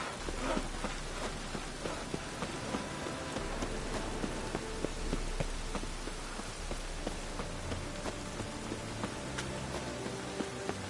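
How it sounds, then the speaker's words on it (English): Steady rain falls in the video game Skyrim, a soft, continuous patter with scattered sharper drips throughout, fairly quiet and with no voices. "I like rain."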